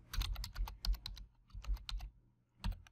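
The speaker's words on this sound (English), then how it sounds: "I'm going to go ahead and just type in my Measure Square ID here" Typing on a computer keyboard while entering a login ID, with quick irregular bursts of key clicks separated by brief pauses, close and fairly quiet, with no talking.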